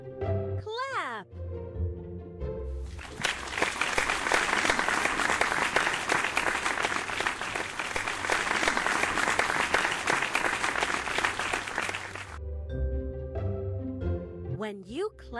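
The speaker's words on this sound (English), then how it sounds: "When you clap, you hit your hands together to show appreciation or attract attention" A sustained burst of hands clapping as applause for roughly nine seconds, loud and steady, with a short synthetic musical phrase sounding before and after it.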